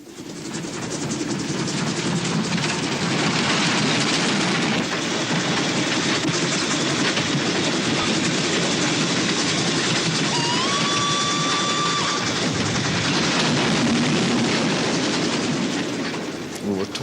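A train rumbles steadily along the rails, loud and continuous, with rattling wheels and a brief squeal partway through.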